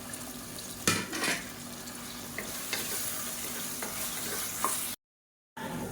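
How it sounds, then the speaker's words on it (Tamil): Tomato, onion and ginger-garlic paste sauté in a pan for kulambu, a soft close sizzle broken by several scraping stirs and light clinks of a utensil, with a brief silent gap near the end. "இப்போ பாருங்கள் தக்காளி வெங்காயம் எல்லாமே நல்லா வதங்கிடுச்சு"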